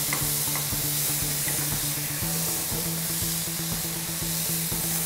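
Vegetables sautéing for a clear vegetable soup, a continuous loud sizzle close up with regular stirring knocks from a spoon against the pan, no speech throughout.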